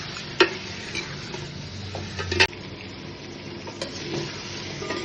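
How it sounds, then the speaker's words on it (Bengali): Mutton with chopped onions frying and being stirred in a pot, a steady close sizzle broken by a few sharp scraping clinks of the spoon against the metal, with no voices. "এবার ভালো করে এটাকে ভেজে নেব পেঁয়াজ দিয়ে।"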